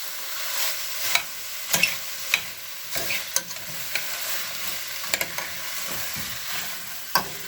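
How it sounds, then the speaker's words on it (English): Vegetables stir-frying in a hot pan, a continuous bright sizzle with scattered clinks and scrapes from the utensil as it is stirred, close and alone without talk. "Give that a stir. Cook it for about 2 more minutes. Let that get warmed through, the vegetables"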